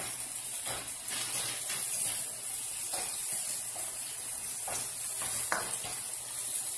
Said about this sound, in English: Stir fry lang siya.